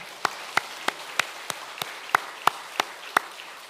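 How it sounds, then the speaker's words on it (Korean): Church congregation at an autumn revival service claps in a slow, steady rhythm, about ten evenly spaced claps, moderately loud and roomy, with no talk over them. "우리 박수 한번 칩시다"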